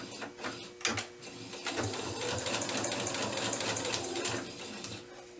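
Sewing machine stitching a short back stitch while joining paper-pieced quilt blocks, a steady close mechanical whir with rapid needle clatter that starts and stops briefly before running continuously.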